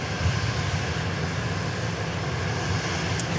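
A Southwest Airlines jet taxiing at Dallas Love Field, a steady broad engine roar heard from a distance, unbroken for the whole moment.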